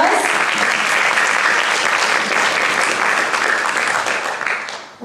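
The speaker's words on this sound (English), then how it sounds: "Let's give them a round of applause." An audience at an elementary school math competition claps in sustained, dense applause for the young competitors, fading out at the end.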